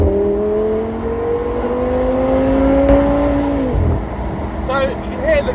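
A 1-of-333 Audi R8 GT V10 with a Milltek exhaust pulls hard under acceleration, its rising engine drone dipping briefly at a smooth upshift before climbing again, loud and close with a voice talking over it.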